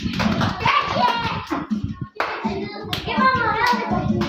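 Bursts of hand clapping come in short runs, separated by pauses, mixed with children's voices nearby during a game of musical chairs.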